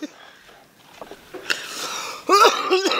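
A man coughs and clears his throat a few times at night while fishing for sea eels, short harsh bursts close by with some wheezing, followed by faint rustling.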